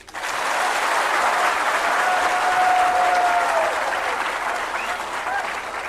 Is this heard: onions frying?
no